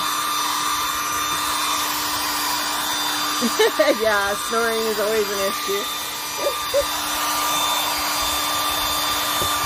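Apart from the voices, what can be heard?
blow dryer drying chalk paint on recipe box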